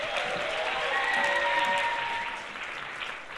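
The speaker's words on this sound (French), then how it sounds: "vos applaudissements, Victoria, s'il vous plaît." Audience applause at a live stage show: steady, full clapping from a seated crowd that holds for a few seconds and then begins to fade.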